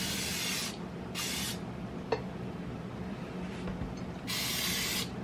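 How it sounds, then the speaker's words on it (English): Short bursts of an aerosol cooking spray can hissing into a slow cooker, three separate sprays with sputtering gaps and a click of the nozzle between them, close and fairly loud. "This stuff is not spraying properly."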